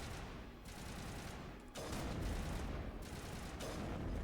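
Rapid gunfire crackles in a Mass Effect firefight. Dense bursts of shots run continuously and grow louder and fuller partway through, with no talking.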